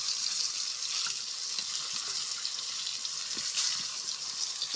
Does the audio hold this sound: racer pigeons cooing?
no